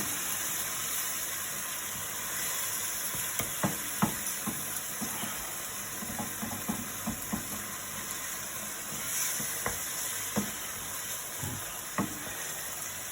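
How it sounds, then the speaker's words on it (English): Tinned tomatoes being stirred into a sizzling Greek moussaka sauce, with a low continuous sizzle and hiss broken by scattered clinks and scrapes of the spoon against the pan. "And I'm also going to add the tin of tomatoes. Get them all stirred in."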